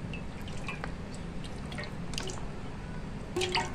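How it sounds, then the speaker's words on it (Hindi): Cooking oil pours into a pot set on a stove, giving faint liquid drips and splashes over a quiet background, with a brief louder splash near the end. "अब हम इसमें ऑयल डालेंगे"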